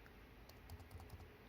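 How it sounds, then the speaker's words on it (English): Keys clicking on an upgraded Alienware computer keyboard: a short burst of about half a dozen light, quick taps, faint and close, with no talking. "What I'm going to do right here is type in"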